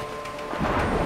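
Rain in the video game A Way Out, a steady hissing downpour with a low rumbling swell near the end, alone and fairly loud.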